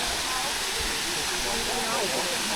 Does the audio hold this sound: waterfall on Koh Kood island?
yes